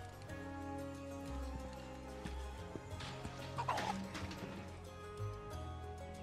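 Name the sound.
chickens clucking in Final Fantasy 7 Rebirth video game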